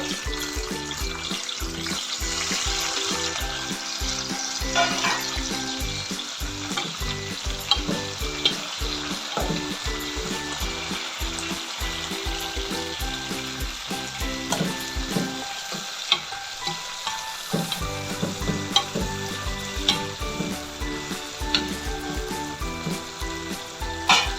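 Tomato and masala frying in a pan for fish sambar, a loud continuous sizzle with rhythmic spatula strokes and scraping, briefly easing mid-way before the vigorous stirring resumes.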